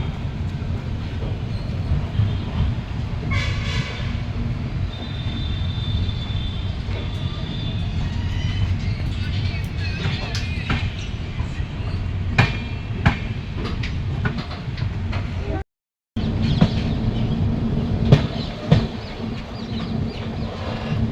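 Howrah–Yog Nagari Rishikesh Doon Express train running steadily on rails, a continuous loud low rumble with rhythmic clacks and rattles throughout, a brief dropout near the end, no voices.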